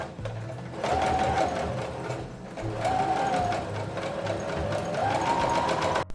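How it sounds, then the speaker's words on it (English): A sewing machine stitches a lace collar onto a dress, a steady, fast mechanical hum and chatter running throughout, with its pitch rising slightly in a few swells. "And sewed all of it in place."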